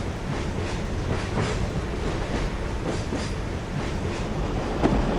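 Steady rumble and rhythmic clickety-clack of a moving passenger train in the adventure game The Last Express, a continuous, fairly loud rolling wheel noise with periodic rail joints and a brief clank near the end.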